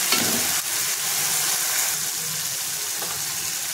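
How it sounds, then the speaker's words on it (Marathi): Ginger, garlic, green chili and coriander paste sizzles and fries in hot oil for a Maharashtrian prawn curry. The hiss is steady and close, with faint stirring scrapes and no talking. "अद्रक, लसूण, मिरची आणि कोथिंबीरची पेस्ट टाकून घेणार आहोत आपण, आणि हे सर्व एकत्र छान परतून घ्यायचे"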